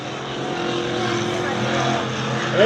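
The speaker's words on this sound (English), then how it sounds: "The two trucks are going to duke it out here." Racing trucks roar around the dirt oval at Dirtona Raceway, a steady engine drone at middling distance that swells toward the end.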